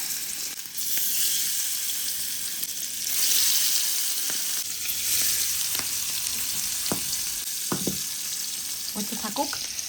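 Hilsa fish frying in hot oil gives off a loud, continuous hissing sizzle that lasts the whole time, with scattered pops and clinks of a utensil toward the end.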